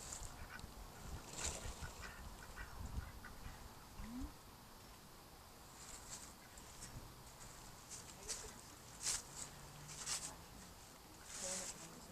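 Ducks quack faintly at a farm park amid steady outdoor background noise, a few scattered short calls with occasional sharper sounds, people talking nearby.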